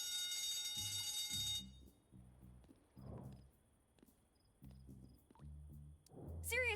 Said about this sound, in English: Seriously, shouldn't you be worried about the alarm? There's obviously a fire somewhere.